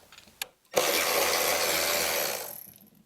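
Ratchet work on 10 mm bolts of a Toro lawn mower's Kawasaki engine, one short click, then a sustained close mechanical whirring burst of about two seconds that fades out, no talk.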